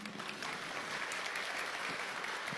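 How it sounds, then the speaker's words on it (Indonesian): Applause for a team standing by with an ambulance at an evening religious gathering: a steady, dense wash of clapping from a sizable audience, continuous and fairly soft throughout. "Tepuk tangan untuk Suhada Haji."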